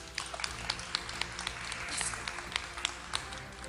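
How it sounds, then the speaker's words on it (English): A small audience at a women entrepreneurs' competition gives a brief round of scattered clapping, individual claps distinct and fairly near over a low background hum. "I think you all deserve an honorary hand of applause for it."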